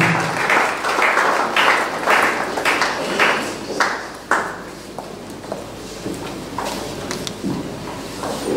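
A church congregation at a funeral wake and viewing claps in a steady rhythmic beat, many hands together in a reverberant room, fading toward scattered, softer claps near the end.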